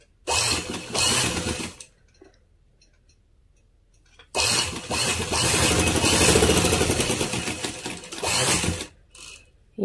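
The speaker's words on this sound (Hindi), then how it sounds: "इस तरह रख के और आपने आधे आधे इंच पे सिलाई लगा लेनी है" A sewing machine sews a kameez seam with half-inch stitching. Two loud, close bursts of fast continuous stitching are separated by a pause of several seconds, with no speech.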